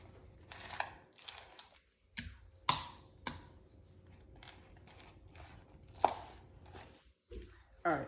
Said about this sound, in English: So cutting half the butter.